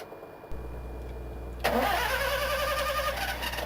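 A truck-mounted engine cranks over, catches with a sudden burst, then settles into a steady, close mid-pitched running drone that continues to the end.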